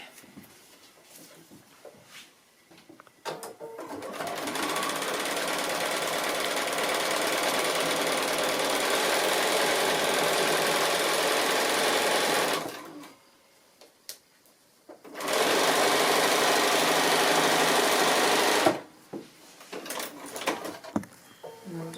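A sewing machine stitches a foundation-pieced quilt block in two loud, continuous runs of rapid mechanical chatter, the first about eight seconds long and the second shorter, separated by a quiet pause with light handling noises.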